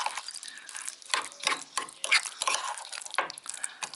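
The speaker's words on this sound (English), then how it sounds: "Mix again." Walnuts being mixed into an aubergine dip in a bowl, producing thick, wet squelching and scraping strokes in quick irregular succession, close up with no voices.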